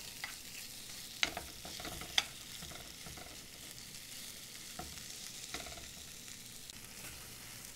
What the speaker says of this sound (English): So we're going to pour our beef mixture into the hot pan.